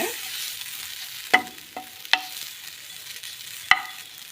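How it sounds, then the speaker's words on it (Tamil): Grated coconut dry-roasts in a pan, a faint, quiet hiss broken by a few distinct scraping knocks of a spatula against the pan. "இந்த தேங்காயில் உள்ள ஈரப்பதம் போகிற வரைக்கும் லைட்டாக வறுத்துக்கோங்க"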